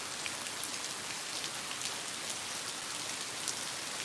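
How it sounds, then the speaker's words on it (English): Steady rain falls outdoors, an even dense hiss of drops on surfaces with a few brighter individual spatters, continuous and close with no voices. "More rain coming."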